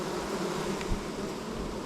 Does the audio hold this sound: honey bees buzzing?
yes